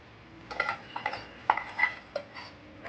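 Fried soya meal maker chunks, browned for gongura curry, are scooped into a separate bowl, giving a few light, scattered clinks and scrapes of a spoon against the vessel, close and fairly soft.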